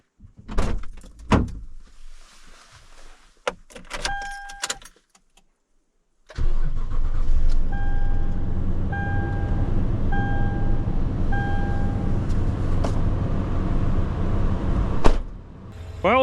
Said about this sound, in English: Well, the truck warms up a little bit.